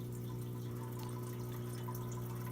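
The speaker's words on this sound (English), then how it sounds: "I will show you my waterfall fountain" A small tabletop waterfall fountain decorated with a relax rock runs indoors in a living room, giving a steady, soft trickle and splash of water with a low hum beneath it, continuous and unbroken.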